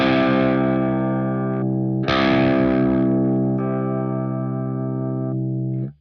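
Electric guitar run through the classic Whammy pitch effect of a Fractal AX8 processor, sustained distorted notes and chords shifted up an octave, loud and steady with a brief re-attack midway, no talking.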